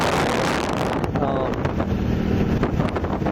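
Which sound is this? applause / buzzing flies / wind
wind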